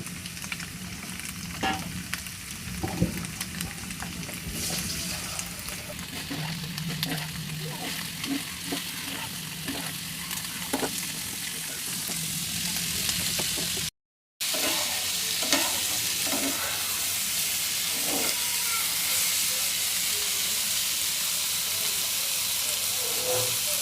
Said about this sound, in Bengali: তেলের মধ্যে একটু ভাজা দিতে হবে।